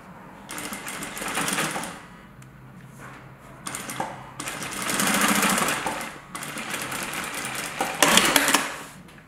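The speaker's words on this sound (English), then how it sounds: "So I've sewn the rolled hem" A sewing machine stitches a rolled hem on a fabric tool roll, running in loud, steady whirring bursts separated by brief pauses, with the needle's rapid chatter close and clear.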